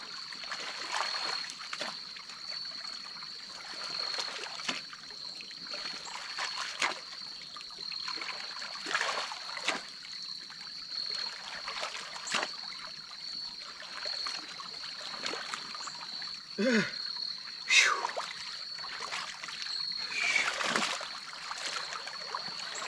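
Water trickling and dribbling steadily through a cleared beaver dam, with intermittent splashes and sloshing movements close by, a high constant tone running throughout.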